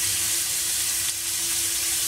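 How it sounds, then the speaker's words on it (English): A continuous loud sizzle of mushrooms frying on high heat in hot oil in a pan, steady and close, with a faint hum underneath. "I'm frying it on high heat because mushrooms use water."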